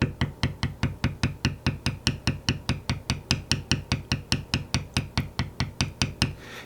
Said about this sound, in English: if you gently tap and move along like that, you can get a pretty smooth shaded bevel on there